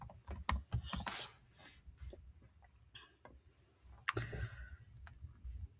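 Rapid, uneven clicking of keys on a computer keyboard, close by, with brief pauses between bursts and a quiet room behind.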